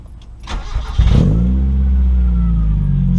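A 1991 Mazda Miata engine cranks briefly and fires up after an oil change, then settles into a steady, close idle.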